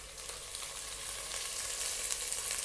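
Ginger-garlic paste cooks with a handful of mint and a little coriander leaf in a pan for chicken biryani, giving a continuous close sizzle of frying. The crackle stays steady and unbroken, and no one speaks.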